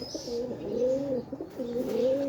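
A pigeon coos up close, two soft, rolling calls separated by a short pause, with no other sounds around.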